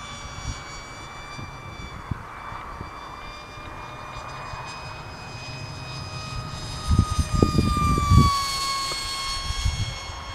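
Electric motor of a WingWing Z84 RC plane in flight, a steady high whine with several sustained tones that rises and shifts in pitch as the plane passes, over rough outdoor wind noise.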